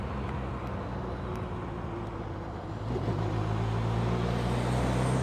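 A 2007 Campagna T-Rex trike with a 200hp Kawasaki 1350cc engine and six-speed gearbox, ridden on the road, giving a steady loud engine drone with wind roar that climbs in pitch and grows louder as it accelerates, with no voices.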